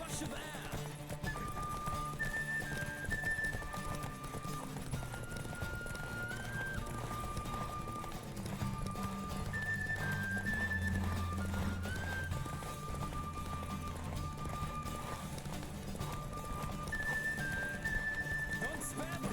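Galloping horse in a Witcher 3 race, with steady rhythmic hoofbeats and a neigh or two beneath game music carrying a whistling melody, continuous and fairly close.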